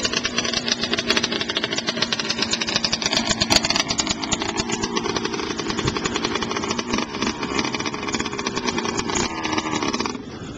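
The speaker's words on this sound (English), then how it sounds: "Did you see his motorcycle?" A motorcycle engine runs on an icy road, a loud, rough, buzzing drone with rapid mechanical pulsing that holds steady up close for about ten seconds before dropping off at the end.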